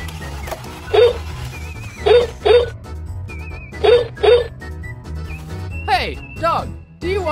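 A dog gives repeated short high barks and yips, about six bursts with a whimpering, squealing rise near the end, set over a busy background of toy-like tones and talk.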